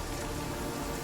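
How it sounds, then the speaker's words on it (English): Rain falls in the video game The Witcher 3 as a steady, dense hiss that is even and fairly faint, with no voices. "Looks like rain."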